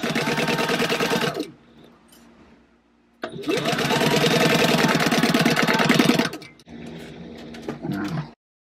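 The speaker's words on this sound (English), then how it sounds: "Now we're going to go to the sewing machine and sew at 1/4 inch on each side." A sewing machine runs in two long, loud bursts of rapid stitching with a 3-stitch length and 1/4 inch seam, with a short quiet pause between them and a brief final run.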